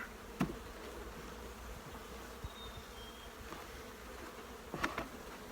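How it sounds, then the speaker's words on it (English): Honey bees buzz steadily close by as nurse bees are shaken into a queen castle hive, a soft continuous drone with a few louder passes, no voices. "I'm going to get a shake of bees when I can in here for the nurse bees."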